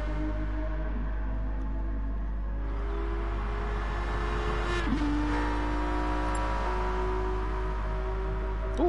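An Aston Martin race car on the circuit at Bathurst during a 90-minute endurance race, its engine note climbing and shifting through gears as it passes, loud and continuous with tire noise underneath and no talking.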